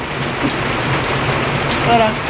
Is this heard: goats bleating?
no